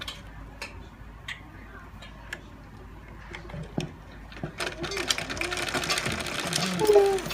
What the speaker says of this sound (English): then you place the velcro on it and sew the 4 corners all round.